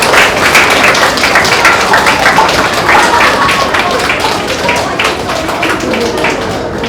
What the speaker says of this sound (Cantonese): 再一次邀請台下嘅同學以掌聲恭賀以上得獎嘅同學